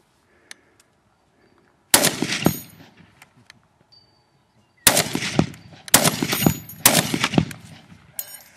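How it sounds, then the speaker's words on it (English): A 1919A4 .30 caliber machine gun converted to semi-automatic fires outdoors: one loud shot, a pause, then a rapid string of booming reports, each ringing out and decaying, close and with no talking. "I'll put a couple more rounds through it."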